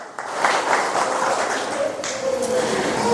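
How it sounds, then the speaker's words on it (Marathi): Applause from an audience at a school batch reunion, a steady close wash of clapping hands that runs the full length without pause. "जोरदार टाळ्या झाल्या पाहिजेत याच्यानंतर कुराडे सरांचा सत्कार होईल"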